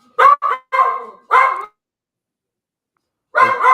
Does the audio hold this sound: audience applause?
no